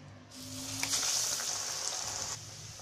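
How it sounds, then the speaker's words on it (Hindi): Beetroot vada sizzling in hot oil over a medium flame, a steady close crackling hiss that swells in after a brief quiet start. "वड़े को हम पलट लेंगे और अच्छा क्रिस्पी होने तक फ्राई करेंगे"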